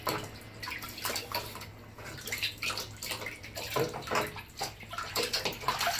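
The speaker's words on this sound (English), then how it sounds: "This is where we're going to rinse the debris" Aquarium canister filter debris being rinsed by hand in a container of tank water, repeated sloshing and splashing in irregular bursts, close and moderately loud.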